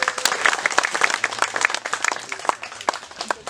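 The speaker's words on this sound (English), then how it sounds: "Round of applause for Annabelle" Scattered applause at a wedding ceremony for the young ring bearer, a small group clapping unevenly for a few seconds at moderate volume, close by.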